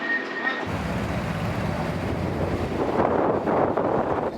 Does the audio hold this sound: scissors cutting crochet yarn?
no